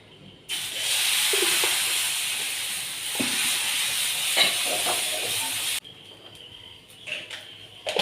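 Green gram dosa batter sizzling on a hot griddle, a loud hiss that bursts in abruptly, holds steady for about five seconds, then drops away to quieter clatter.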